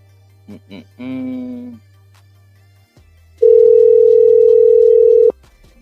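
Phone call going straight to voicemail: a couple of short beeps and a brief buzzing tone, a pause, then a loud sustained steady electronic tone lasting about two seconds before cutting off.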